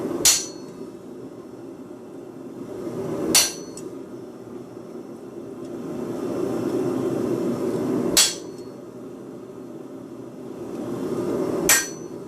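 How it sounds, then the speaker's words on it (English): A chisel struck by a hammer cuts teeth into a wooden nutcracker, four sharp, loud impacts spaced several seconds apart, separated by a low hum. "It's much easier to chisel teeth in."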